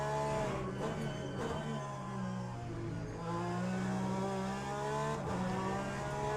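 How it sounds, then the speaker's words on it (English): A car engine on a race track revs with steady harmonic tones that dip and shift as gears change, loud and continuous throughout, with no voices. "Not used to how this car sounds when it needs to change gear."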